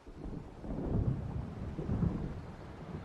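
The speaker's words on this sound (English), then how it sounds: "It seems there's a storm coming." Deep rolling thunder from an approaching storm in the video game Alan Wake, rumbling in two low, swelling waves over a steady wash of rain, distant and heavy, with no voices.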